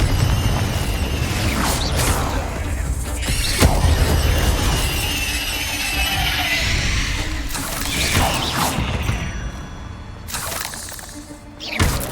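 Confringo blasting spell going off in Hogwarts Legacy, a loud crashing burst with shattering debris and rumbling impacts, followed by further sharp bangs and mechanical clatter through the rest of the scene, no talking.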